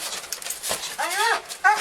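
A police dog at a deputies' bodycam scene gives two short, high, whining yelps near the microphone, the second one briefer and sharper, following faint scuffling noises.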